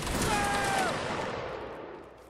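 Musket volleys ring out in a Napoleonic Wars battle game, a dense crackling burst of shots that fades gradually over two seconds.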